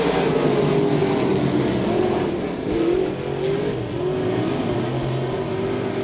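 Race cars roaring around a speedway track during a heat race, a loud, continuous dense engine drone with a slight rise and fall in pitch as the pack passes, heard without voices.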